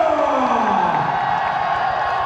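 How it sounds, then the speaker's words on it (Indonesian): A crowd cheers and applauds for MMA fighter Guardiola Lumihi at a One Pride Pro Never Quit event. The roar is dense and steady throughout, with a falling whistle-like tone early on. "Saya dengar tepuk tangannya untuk Guardiola Lumihi."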